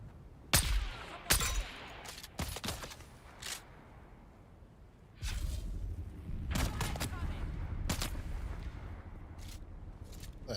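Gunshots aimed at the player in a video game, several separate sharp cracks spaced irregularly, then a steady rumbling background, with someone talking at times.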